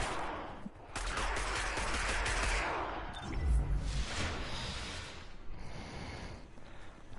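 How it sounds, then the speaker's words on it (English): Gunfire in the video game Destiny during a lunar event, in sustained rattling volleys and whooshes over dense game noise, with a heavier burst about halfway through. "If I can shoot him off that speeder bike."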